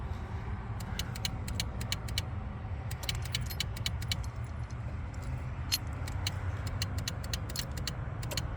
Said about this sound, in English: Okay, we've got some clicking.